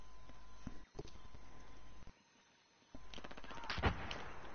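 Gunfire from the shooter game Battlefield 4, firing in short bursts at first, then a louder cluster of shots near the end, with a quiet gap in the middle.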